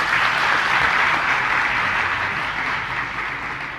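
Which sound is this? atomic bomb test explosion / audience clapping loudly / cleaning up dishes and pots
audience clapping loudly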